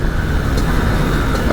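A Honda HM 86 motorcycle engine with an aluminium top end revs hard in a brief, steady, loud buzzing roar, close by and alone.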